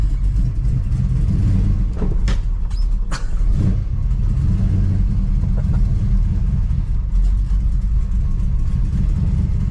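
A 1967 Dodge Dart engine rumbles low and steady at close range while backing out in a garage, with a few brief knocks and scrapes over the continuous drone.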